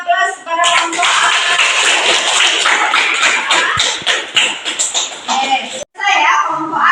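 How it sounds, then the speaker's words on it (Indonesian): Applause for group A from a class, a steady burst of many hands clapping close by for several seconds, with children's voices mixed in and a short break near the end. "berikan aplaus kepada kelompok A"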